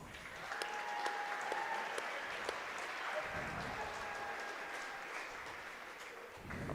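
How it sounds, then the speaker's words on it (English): A gym crowd applauds senior wrestlers at a high school senior night, sustained clapping and cheering that stays loud and even throughout, with an announcer's voice faintly underneath. "Let's give a round of applause to our 4 seniors for this year."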